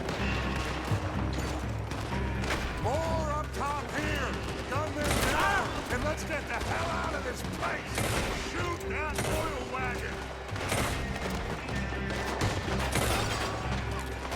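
Heavy gunfire crackles through a Red Dead Redemption shootout, dense volleys and scattered shots layered over game music and effects, with voices talking throughout.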